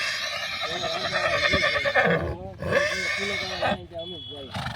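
A Kathiyawadi horse whinnies outdoors on a road near Rajula, several rising neighs breaking through loud, continuous conversation among people nearby.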